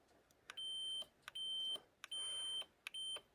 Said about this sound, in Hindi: जैसे प्रेस करेंगे तो यहाँ पर बजर बजने लगेगा कुछ इस तरीके से